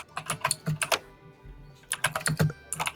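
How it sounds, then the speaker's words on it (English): Loud, fast typing on a keyboard, bursts of sharp close clicks in quick uneven runs separated by a short pause, with no voices. "very loud sounds of typing."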